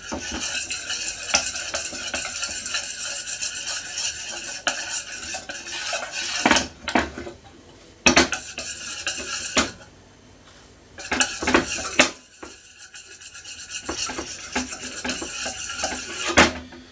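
Gelatin stirred into a coffee and Biscoff cheesecake mixture in a bowl, with steady scraping and clinking of a utensil against the dish, pausing briefly twice before resuming, close and fairly loud with no talking.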